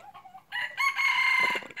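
A single junglefowl crow rings out close and loud, a short rising call followed by a longer sustained note.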